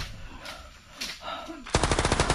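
Rapid automatic gunfire from a video game bursts in loudly near the end as a fast, steady stream of shots, following a stretch of background game sounds.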